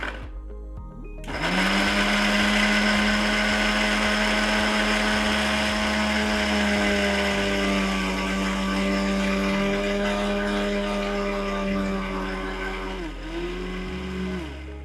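A mixer grinder grinding pineapple pulissery ingredients with a glass of water starts up and whirs steadily at high speed, a loud continuous motor drone that dips briefly in pitch near the end.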